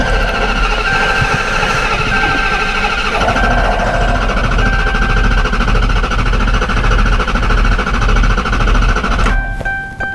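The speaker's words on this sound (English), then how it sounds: "And now we're going to give it a crank." A 2012 Dodge Charger V8 with a misfire turns over and runs, a steady loud mechanical drone with rhythmic knocking pulses and a whining tone throughout, stopping abruptly near the end.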